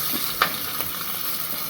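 Chopped onion and green chili fry in hot oil in a pan for a cooker chicken biryani, a soft steady sizzle with one brief clink of a stirring spoon, close and alone.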